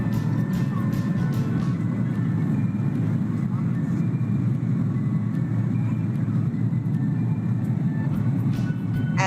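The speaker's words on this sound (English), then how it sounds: "we're about to take off in the plane at LAX" Airliner taking off from LAX heard from inside the cabin: a steady, loud low engine rumble and rushing roar fills the whole stretch without letting up.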